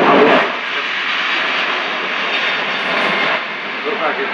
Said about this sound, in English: The Rolls-Royce engines of this were the Rolls-Royce Trent 900.